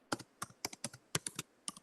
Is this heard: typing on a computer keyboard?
yes